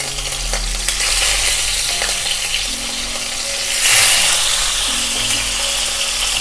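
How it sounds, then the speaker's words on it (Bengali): Salt-and-turmeric-coated fish fried in very hot mustard oil in a wok, a steady close sizzle and crackle with brief stirring noises, swelling louder partway through, no talk. "এবারে আমি এতে এই লবণ হলুদ মাখানো মাছগুলো দিয়ে দিচ্ছি।"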